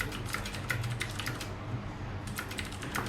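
Typing on a mechanical keyboard resting on a walnut wood wrist pad, a quick irregular run of close, crisp key clicks with a brief pause midway before the tapping resumes.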